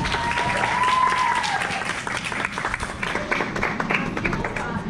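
An audience applauding and cheering as a guest, a law professor and state prosecutor, is invited onto a stage, with sustained dense clapping and a whoop, a voice speaking over it.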